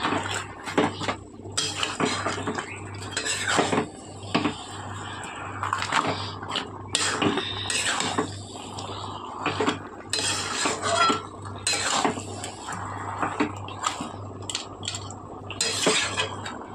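Repeated scraping and clanking of a metal spoon in a pan as rui fish heads are mixed with cabbage for a Bengali ghonto, rhythmic strokes close up with no talking.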